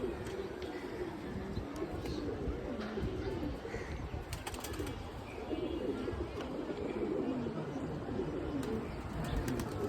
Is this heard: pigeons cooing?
yes